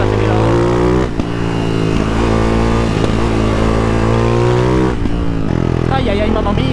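A Ducati Hypermotard 698 Mono motorcycle accelerates loud and close, its engine note climbing through repeated surges with brief dips between gear changes. A rider's voice can be heard over the noise.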